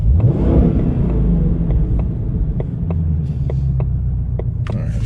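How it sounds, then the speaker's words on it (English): A 2021 Shelby Mustang GT500 in track exhaust mode gives a loud, deep rumble as the engine revs and then holds a steady heavy drone from close inside the car. "And I got to throw it in track exhaust."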